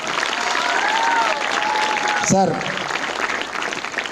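Students and officials clap together at a school hall during a junior boys' inter-district kho-kho event, a broad wash of applause that carries on while someone speaks over it.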